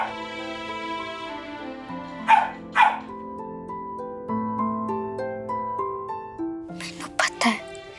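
A dog barks in two quick pairs of loud, sharp barks, separated by a few seconds, over a sustained tonal musical background.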